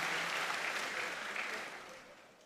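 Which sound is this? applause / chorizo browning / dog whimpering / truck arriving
applause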